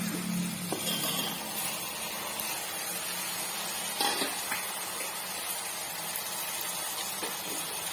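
Green cashews being stirred into tomato masala as it fries in a pan for a Panruti-style cashew kurma: a steady soft sizzle with scraping stir strokes, close and moderately loud, no voices.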